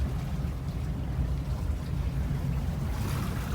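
A motorboat pulls away from the dock with a steady low engine rumble mixed with wind and water noise, close and continuous.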